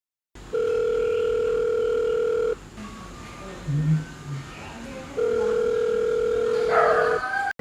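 A telephone tone plays while a call is being placed: two long, steady tone bursts with a short gap between them, loud and close. Faint background sounds fill the gap.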